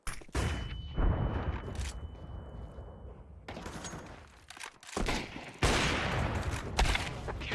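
A flashbang grenade thrown in Counter-Strike 2 pops and crackles in sharp bursts, with a thin ringing tone lingering for a few seconds before louder blasts of gunfire return near the end.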